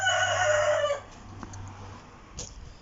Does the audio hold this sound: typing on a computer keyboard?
no